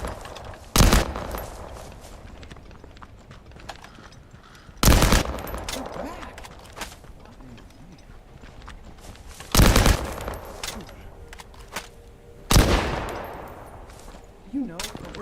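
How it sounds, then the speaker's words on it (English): Gunfire in the video game The First Descendant: four loud, sharp bursts spaced several seconds apart, each cutting through a low game ambience with faint background noise between them. "I need someone in game though to shoot"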